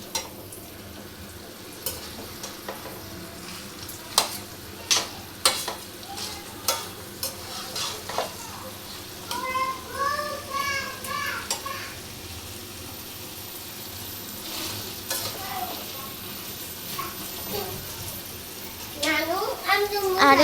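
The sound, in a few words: stirring beef and jackfruit seeds in a frying pan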